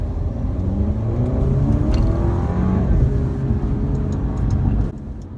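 A 2017 Alfa Romeo Giulia engine steadily rises in pitch as it gains speed to about 50, with road and wind noise, then drops off abruptly near the end.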